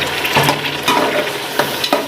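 Chicken pieces fry with garlic in a hot pan, a loud continuous sizzle broken by repeated scraping stirs of a spoon, close up and without voices.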